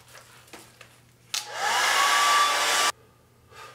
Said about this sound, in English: I've hair dried them, blow dried them